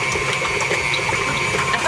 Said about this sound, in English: I find it a little bit easier to get them nice and frothy if I'm using the mixer